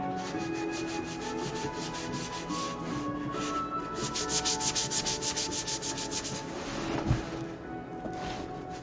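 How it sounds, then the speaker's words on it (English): Sandpaper rubs back and forth over a carved cliff during spot sanding, making quick rhythmic scratchy strokes up close with a brief knock near the end and no talk. "I've heard that some people appreciate the ASMR aspects of the sound of sanding."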